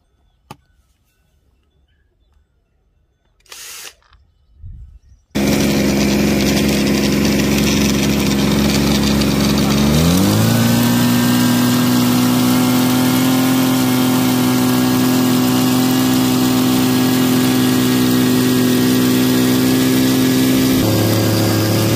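After a few quiet seconds and brief handling noises, a motor driving a homemade alternator starts abruptly and runs loud and steady, its hum rising sharply in pitch as the speed increases, then holding a constant whine.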